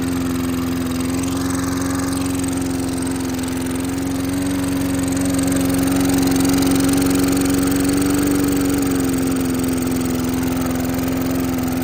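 Small pull-started engine running steadily and loudly at close range, a constant buzzing drone with a strong hum and no pauses throughout.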